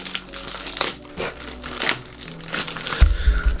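Crinkly plastic packaging around a U'King 36W LED par light rustles and crackles in bursts as it is handled and torn open, ending with a louder low thump.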